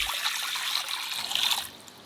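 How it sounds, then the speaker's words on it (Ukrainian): Water pours in a steady, bright stream into a metal wok, close by, tapering off near the end. "У вок наливаємо воду."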